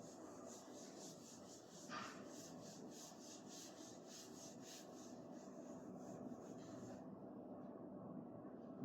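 A physics teacher rubs a board to erase it in a classroom, producing a steady, soft scrubbing sound that continues for about seven seconds and then stops, with no talking over it.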